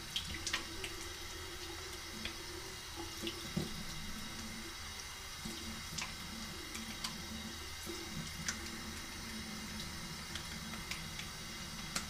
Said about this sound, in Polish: czas na zimną wodę